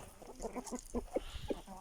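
Aseel chickens cluck in quick, uneven bursts close by, several short calls overlapping in a busy coop-like setting.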